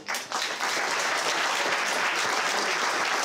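A live audience applauds in a dense, steady burst of clapping that starts abruptly and holds at full strength throughout, loud and close with no voices over it.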